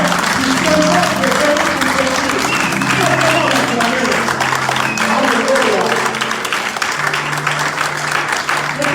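A church congregation applauds and cheers for Jesus: steady, dense clapping from a large crowd fills the room at a constant loud level, with voices and sung tones mixed in beneath.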